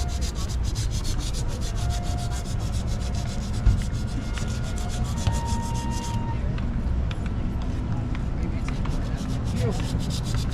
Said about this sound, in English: Using some 80 grit sandpaper and open up the sides.